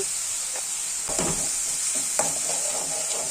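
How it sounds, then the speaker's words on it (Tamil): Ginger garlic paste frying in oil and being stirred, a steady loud sizzle with a few scraping stirs of the spoon, close up with no voices. "இஞ்சி பூண்டு பேஸ்ட் வந்து நல்லா எண்ணெயில் வணங்கட்டுங்க"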